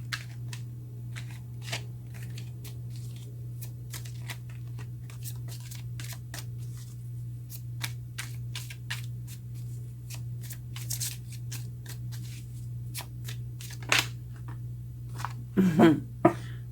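Tarot cards are shuffled by hand: soft, scattered riffling clicks and slaps over a constant low hum, with a louder flurry near the end.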